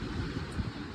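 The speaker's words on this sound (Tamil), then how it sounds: "பயங்கர காத்து அடிக்கு" Strong wind buffets the microphone near a hillside Shiva temple at Soolagiri, a steady low rumbling roar with no clear gusts and no talking.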